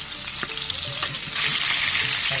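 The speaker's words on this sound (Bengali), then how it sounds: "এখন আমি গরম তেলে রুই মাছের মাথাটাকে দিয়ে দিচ্ছি" Rohu fish head frying in hot oil, a crackling sizzle with scattered spatters that swells louder partway through, close and steady with no voices.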